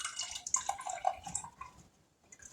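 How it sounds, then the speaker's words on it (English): Hot bacon grease pours off into a container for Thanksgiving cooking, making a close, thin trickling and dripping stream that tapers off toward the end. "Now we're going to pour off the grease."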